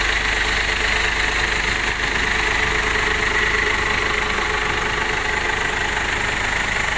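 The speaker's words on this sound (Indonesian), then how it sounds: "Suara mesinnya pun halus teman-teman" 2015 Ford Everest 2.5 diesel SUV engine idling, a steady, close mechanical clatter with a low hum and faint ticking that holds an even level throughout.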